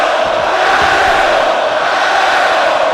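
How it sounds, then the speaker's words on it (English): Arena crowd noise in a WWE 2K wrestling video game match, a loud steady roar of massed voices sustained throughout with no break. "the crowd ain't liking this at all."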